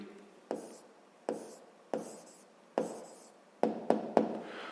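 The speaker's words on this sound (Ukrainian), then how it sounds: "Пишемо відповідь." A pen taps and scratches on paper while a sixth-grade math answer is written out, giving a run of eight short, close strokes that come quicker toward the end in a quiet room with no talk.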